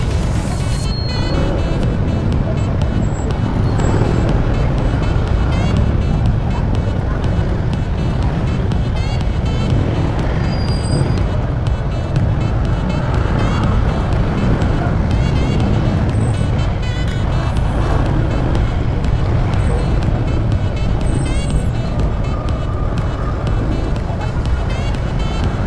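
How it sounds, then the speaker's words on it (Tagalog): Heavy road traffic at a congested entry point, a loud, constant rumble of car and truck engines idling and creeping along, close by, for the whole stretch. "Wala na, traffic na talaga dito sa pagpasok."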